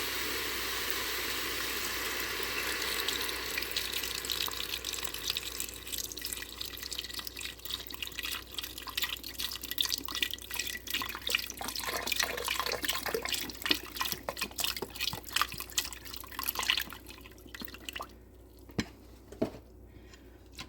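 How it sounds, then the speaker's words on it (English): Broth splashes and drips into a pot, a steady pouring wash that breaks into scattered drips and small splashes before trailing off near the end. "So I'm just gonna pour in the broth in here."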